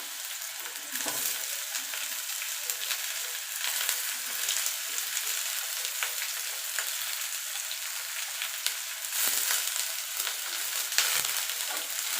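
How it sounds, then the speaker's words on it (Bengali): Gourd peel and potato pieces fry in hot oil in a pan, giving a steady, dense sizzle that holds at an even level throughout with no voices. "এইভাবে লায়ের খোসা ভেজে দেখবেন"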